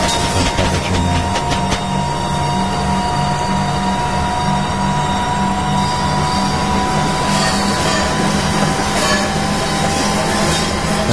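Train Simulator electric train on the Ebbsfleet to St Pancras line running into a tunnel, with a steady loud motor hum and wheel rumble, faint rhythmic clicks early on, continuing without a break.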